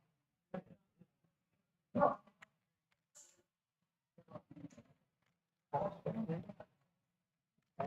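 A dog barks in several separate bursts, some single woofs and one longer run of barks, fairly faint against near silence.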